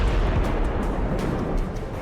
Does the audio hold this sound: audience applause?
no